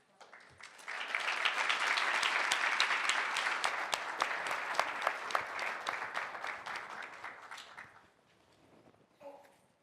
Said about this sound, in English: Please, a round of applause as we will welcome Bebeto.